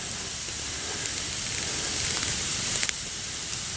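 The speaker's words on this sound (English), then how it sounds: "Fire's cooking up nicely." A campfire burns on a fall hike, giving a steady close hiss with scattered crackles and small pops, no voices.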